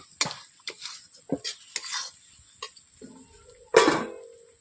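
A spoon scrapes and clinks against a pan while stirring dhaba-style paneer curry, in short, irregular strokes, with a soft sizzle between them and a louder scrape near the end.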